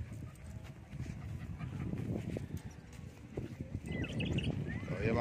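Horse hooves clip-clop faintly outdoors at a place where visitors ride horses, irregular soft knocks under breezy ambient noise, with a dog panting nearby.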